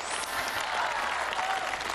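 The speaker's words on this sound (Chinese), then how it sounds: "掌声送给他。" A theater audience claps warmly for a young Yue opera student about to sing on a televised stage show; the applause is thick and continuous, close and evenly loud from start to finish.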